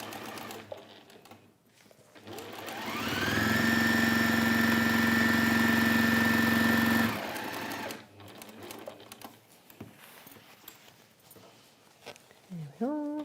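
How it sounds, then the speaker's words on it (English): A sewing machine stitching a lined origami bag runs in one steady motorized burst of about four seconds with a constant whirring hum, framed by quieter handling clicks and fabric rustle before and after. "let's simply crack on and do a little bit of sewing"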